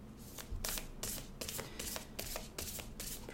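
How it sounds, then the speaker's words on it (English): Angel oracle card deck shuffled by hand, a close, quiet series of about eight crisp riffling bursts in a steady rhythm, with no talking. "2 more shuffles."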